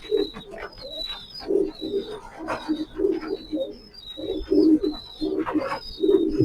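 Racing Maxi pigeons coo repeatedly in a steady rhythm of low, rounded calls, close and clear, with high chirping birds calling throughout in the background.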